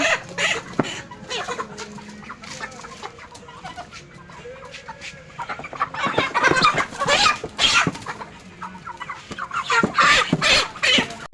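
Chickens at a poultry farm clucking and squawking, a flock of large birds raised for forty days making repeated calls that grow louder and busier in the second half, with no talk.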